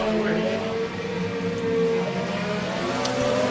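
Race cars lap at Pike County Speedway during the Jambalaya 100, a steady, loud engine roar that fills the whole stretch.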